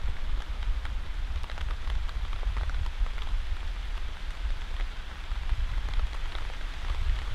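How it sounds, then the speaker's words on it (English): Heavy rain pours down outdoors in Ohio, a dense constant hiss with countless drops pattering on nearby surfaces, loud and unbroken throughout with no voices. "we just keep getting waves of rain"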